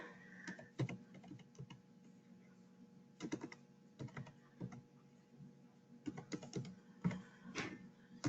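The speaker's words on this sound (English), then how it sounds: "And then you would type in your barcode." Someone types on a computer keyboard, producing quiet clusters of close key clicks in short bursts separated by brief pauses.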